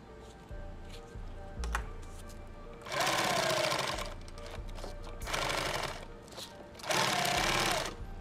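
A sewing machine stitches through hook-side Velcro on a 2-quart lid build, running in three loud bursts at about three, five and seven seconds, with a quieter steady mechanical whir between them.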